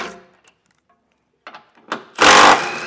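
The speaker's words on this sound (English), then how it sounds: "We'll take a 16 millimeter socket, remove four bolts from each side." A 16 mm socket tool works bumper beam bolts loose on a 2023 Audi Q5: a few faint isolated clicks, then a loud, close, short burst of mechanical whirring at the end.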